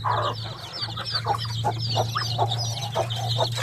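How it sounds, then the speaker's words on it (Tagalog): Backyard chickens cluck in a rapid, uneven series of close, fairly loud calls, with a steady low hum running underneath and no talking. "Manok ah."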